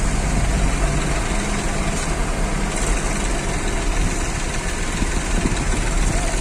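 Tractors drive at a Sindhi wedding rally, a loud continuous rumble of several diesel engines close by, dense and unbroken throughout.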